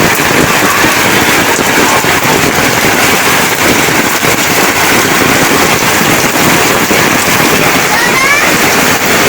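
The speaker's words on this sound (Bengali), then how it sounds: "আর শুরু হয়ে গেছে বৃষ্টি।" Heavy rain drums steadily on the tin roof of a tin-shed house, a loud, dense, unbroken wash of patter that stays constant throughout.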